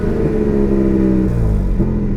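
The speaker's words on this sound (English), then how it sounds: "The revs are going all weird as they come back down again." A Porsche Cayman GT4 with a fault revs its engine, a loud close mechanical drone with a shifting, uneven pitch that drops and wobbles as the revs fall back down.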